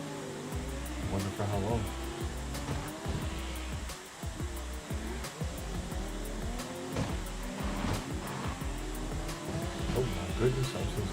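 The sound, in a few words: car engine in CarX Drift Racing video game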